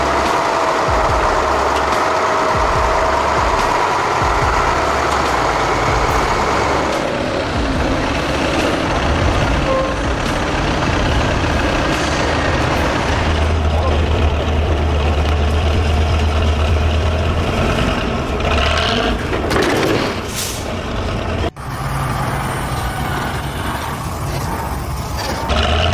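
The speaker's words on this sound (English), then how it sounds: "A rugged off-road truck was devouring every inch of the hillside. The engine roared." A heavy off-road truck loaded with wood roars up a steep hillside, its engine sustained and loud throughout with rumbling strain, a brief dip and jolt near the end, no voices.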